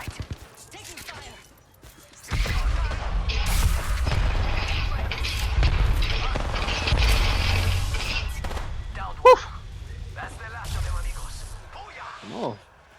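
Gunfire and explosions in a video game, dense booming blasts and rapid shots over several seconds followed by sparser sharp hits, with players talking over the game audio.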